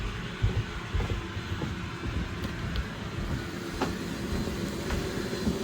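An AirVac AV3500 central vacuum unit fitted with mufflers runs steadily in a basement, giving a continuous low rumbling drone with no voices over it.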